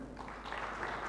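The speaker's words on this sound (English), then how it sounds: "A round of applause for Samir." Brief scattered clapping from an audience at an alternative investments conference, soft and short over a low room hum.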